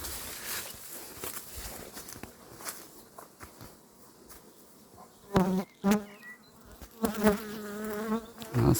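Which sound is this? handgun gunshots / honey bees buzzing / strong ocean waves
honey bees buzzing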